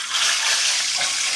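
Hot oil spits and sizzles loudly in a pan while frying chicken for ayam gepuk, a dense continuous crackling hiss filling the moment close to the listener.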